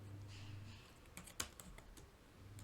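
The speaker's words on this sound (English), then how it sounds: "let's type print" Soft, scattered keystrokes on a computer keyboard, a few distinct taps with one sharper click in the middle over low background hum, while Python code is typed.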